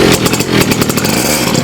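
An old motorcycle engine runs loud and close, a rough, rapid stuttering rattle of firing pulses throughout the short burst, with no talk over it.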